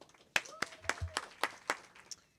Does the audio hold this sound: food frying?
no